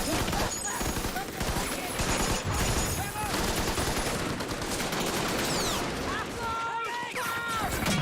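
Heavy World War II battle gunfire from the TV series The Pacific, set at Guadalcanal: sustained machine-gun fusillades and booming blasts, loud and dense throughout, with voices talking over them.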